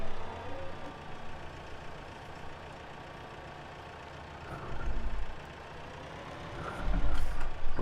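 A vehicle engine idles steadily in a farming video game, giving a continuous droning hum that swells twice in deeper surges.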